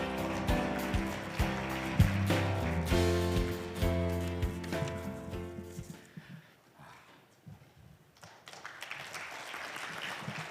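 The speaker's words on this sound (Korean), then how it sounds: "큰 박수 부탁드리겠습니다." Applause from a forum audience at the Future Economic Forum 2025 as a committee chairman is welcomed to the stage, a steady wash of clapping under loud music for about six seconds before it thins out and fades.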